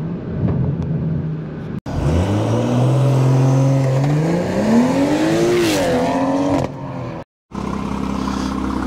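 A custom Stage 2 BMW M140i engine revs loud and close, its pitch climbing and swelling through long sustained pulls, then dropping back to a rumbling idle between bursts.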